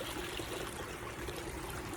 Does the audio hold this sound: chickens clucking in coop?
no